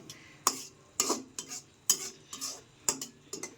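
Tukbuki being stirred in a cooking pan, with about seven scraping, clattering strokes at an uneven rhythm, close and fairly quiet, with a light sizzle underneath.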